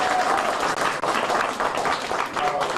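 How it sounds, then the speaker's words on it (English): At a school visit, a crowd gives a sustained round of applause, dense and even clapping filling the whole stretch without pause. "Give her a round of applause."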